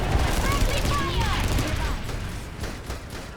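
Dense rapid gunfire from a Light Assault player's weapon in an online shooter game rattles continuously with clattering shots, while someone talks over it.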